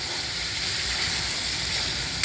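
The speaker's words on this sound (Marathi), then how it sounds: "आता तेलात मसाल्यामध्ये हे पीस असे टाकले" Masala-coated pieces frying in oil, a steady close sizzle running throughout with a faint clink of a utensil at the end.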